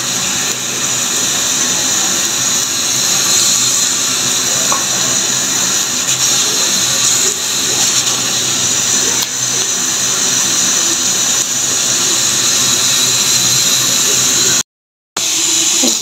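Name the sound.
frying mustard flowers in a pan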